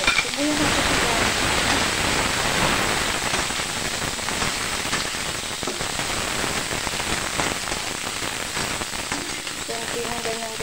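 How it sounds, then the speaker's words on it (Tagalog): White onion sizzles steadily in a hot pan, a constant close crackle and hiss lasting throughout, with no voices over it. "Unahin muna natin igisa-igisa tong sibuyas na puti."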